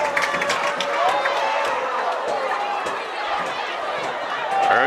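A fired-up Blytheville Chickasaws home crowd roars at a 2025 high school football game against Osceola, a dense continuous wash of cheering and chatter that swells again near the end, with voices talking over it.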